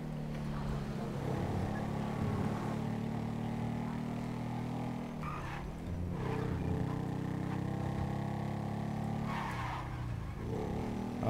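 A motorcycle engine in the video game GTA 5 drones steadily for several seconds, its pitch dipping and climbing as the bike slows and speeds up, with a constant, moderately loud hum throughout.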